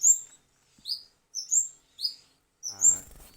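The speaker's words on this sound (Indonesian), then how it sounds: "Burung cigun ini ya." Cigun birds chirping close by in a series of short, high, sharp chirps, about seven in quick irregular bursts with silent gaps between, ending with a brief soft rustle.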